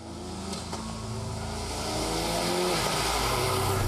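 A Ford RS powered by a revised 2.3-liter EcoBoost engine drives past, its engine note steady and loud with rising revs toward the end, no talk over it.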